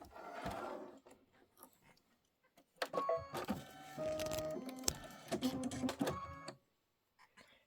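An embroidery machine stitches a placement line onto fabric, with short bursts of mechanical whirring and clicking that stop and start between quiet pauses.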